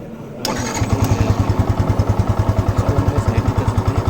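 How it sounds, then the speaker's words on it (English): A 2019 Yamaha FZ FI V3.0 motorcycle cranks over and catches after a brief silence, settling into a steady, close, loud single-cylinder idle with an even pulsing throb from a dual-tone exhaust. "Let me just fire up the engine for you."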